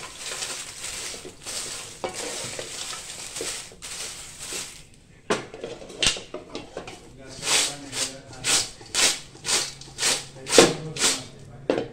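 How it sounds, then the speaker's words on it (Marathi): Green chilies roast in oil in a pan, with a steady sizzling hiss and repeated stirring scrapes, while a person talks over the cooking. "तेल टाकून आता हे मिरच्या आपण भाजून घेतोय"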